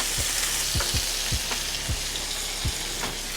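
Scallops and butter sizzle steadily in a hot frying pan, a constant close hiss broken by soft, regular low taps and pops, with no talking.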